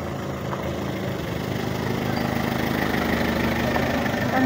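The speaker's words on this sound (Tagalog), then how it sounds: "Yan naririnig natin na tricycle." A motorcycle tricycle engine on a road at night, a steady low idling rumble that grows slightly louder as it approaches, with no talking over it.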